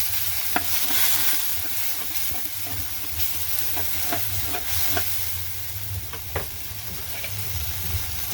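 Turmeric and chili powder are stirred into frying onions in a pan for a tengra fish curry. A constant sizzle runs under repeated scraping spoon strokes that come at an irregular rhythm, with no voices.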